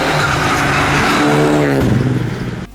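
A Renault Clio Rally5 rally car engine revs hard and loud up close, its pitch climbing steadily before it cuts off sharply at the end.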